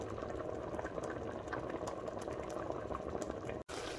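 Grilled okra sauce with beef and cowhide simmers in a covered pot, giving a steady close bubbling hiss with small pops throughout, briefly cut off near the end.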